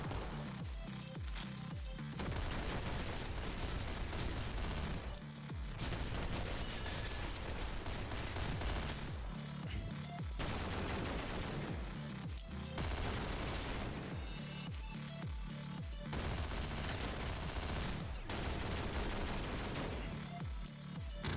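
Turret gunfire in the top-down roguelike shooter OTXO, dense rapid bursts of shots repeating in waves with brief gaps, loud and continuous over about twenty seconds without talk.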